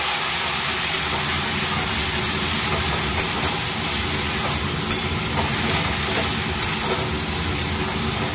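A masala of cumin powder and Kashmiri chilli powder sizzles in a pan while a small-fish curry cooks. It makes a steady, close, hissing fry that carries on evenly with no talking.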